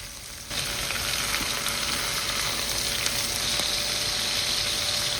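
Smash burgers flipped on a hot griddle: a loud, dense, continuous sizzle that jumps up sharply as the patties turn and stays strong, close and steady, with no talking.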